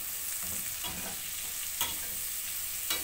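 Vegetables stirred while frying in a pan for a simple budget vegetable dish after soy sauce is added, with a steady close sizzle broken by several scraping stir strokes over about three seconds.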